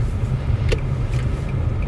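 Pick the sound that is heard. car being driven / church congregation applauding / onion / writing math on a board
car being driven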